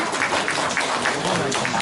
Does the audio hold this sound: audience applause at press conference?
yes